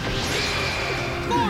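Sword dance skill attack in the .hack//GU video game, a dense continuous clash of slashing and impact effects with whooshes, loud and busy throughout.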